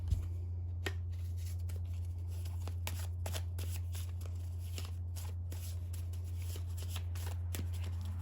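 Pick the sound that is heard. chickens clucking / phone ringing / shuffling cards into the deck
shuffling cards into the deck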